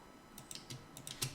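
A computer keyboard is tapped a handful of times while working in a spreadsheet, soft, irregular keystrokes close by over a quiet room.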